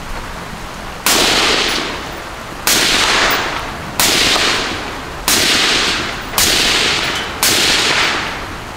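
A 5.56 Honey Badger rifle fires six loud, sharp shots at roughly one-second intervals during function testing, each with a decaying outdoor echo.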